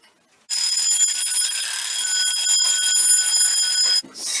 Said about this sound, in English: winding up an alarm clock